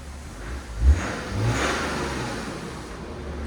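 A BMW X5 with a 3.5L diesel engine and straight pipes revs up once in a short, muffled burst, then settles back into a low, steady drone.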